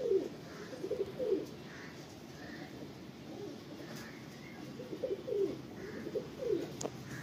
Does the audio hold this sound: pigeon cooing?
yes